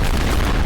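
Bomb explosion in a video game, a loud, close, dense boom that fills the whole brief moment with rumbling noise.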